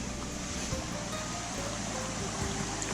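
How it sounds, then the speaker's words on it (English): A stream flows in the Cornwall countryside with a steady, fairly loud rush of water that carries on without a break, mixed with some wind noise on the microphone, and no one speaking. "Water."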